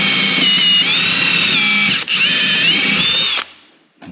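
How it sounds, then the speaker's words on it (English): A power drill with a 1/4-inch bit drills out rivets while a full skid plate is installed on a 2021 Can-Am Commander. The bit whines loudly and steadily for about three seconds, dips briefly, then stops abruptly. "1/4" drill bit, center of the rivet in the hole"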